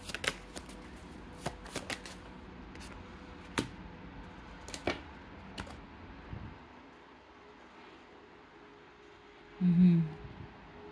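Tarot cards are shuffled in quick, soft riffling bursts scattered through a quiet room, followed by a short louder knock near the end.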